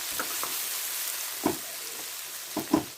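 Garlic and minced keema sizzling in a pan as it is stirred, a steady bright frying hiss broken by a few soft scraping knocks of the spoon.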